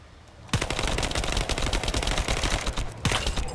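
Rapid automatic gunfire rattles from The First Descendant shooter game, a dense continuous burst of shots after a quiet start, with a brief pause before the firing resumes, loud and close.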